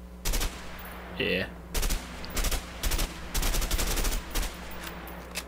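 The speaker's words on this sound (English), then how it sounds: "This one actually might be a burst fire." Burst-fire automatic gun in the video game A Way Out, with about eight loud, sharp bursts of rapid shots at fairly even intervals and brief talk between them.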